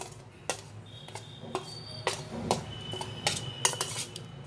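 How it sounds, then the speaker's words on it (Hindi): A spoon clinks and scrapes against a small bowl while spices are mixed together for jhaal muri. The sharp metallic taps come in an uneven rhythm, close and fairly faint. "सबसे पहले ये मसाले जो है ये सारे हम एक साथ मिक्स कर देंगे।"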